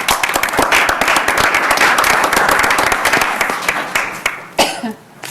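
An audience at a school district board of education meeting bursts into applause, a dense run of hand claps that holds steady and then thins out with a few scattered claps, close and loud.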